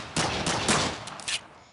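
An M9 pistol fires in a modded video game, producing a quick string of sharp, close, loud shots over about a second and a half, with no voices.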